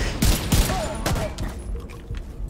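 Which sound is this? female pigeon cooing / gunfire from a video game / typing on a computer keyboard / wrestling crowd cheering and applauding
gunfire from a video game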